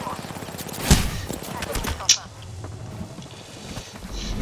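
Gunfire in the Apex Legends battle royale game comes as a couple of sharp, loud shots with a short burst, close and over a busy in-game background, while a player talks.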